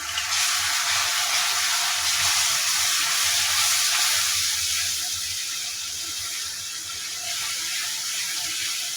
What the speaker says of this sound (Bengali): দু এক মিনিট আমি মশলাটাকে এভাবে কষিয়ে নিই